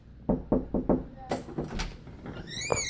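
Four quick knocks rap on a door in a steady rhythm, close and fairly loud, followed by a brief voice and some rustling movement.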